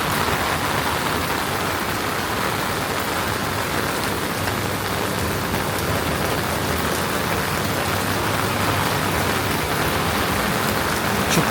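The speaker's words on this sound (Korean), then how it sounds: "와우 현재 엄청나게 비가 쏟아지고 있습니다." Heavy rain pours down steadily on a street in Tsim Sha Tsui, Hong Kong, a dense, continuous roar of drops hitting the pavement close by, unbroken from start to finish with no voices.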